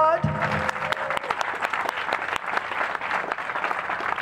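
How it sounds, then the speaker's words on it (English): Audience at a Gardena veterans ceremony breaks into clapping after a brief voice, the applause dense and sustained for several seconds. "Come on, let's hear it. We can applaud."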